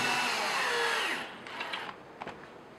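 A power screwdriver whirs, driving wood screws to fix an Extel Weva 2 video door phone to a wooden gate leaf, with a steady winding-down buzz followed by a few short clicks and taps nearby.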